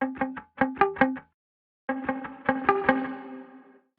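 Short bursts of a plucked instrument play through a springy reverb, the second phrase leaving a metallic, splashy tail that rings out and fades.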